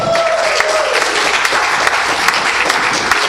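A church congregation claps together at a Sunday service, a steady dense applause that fills the room at close range and holds evenly throughout, with no talk over it.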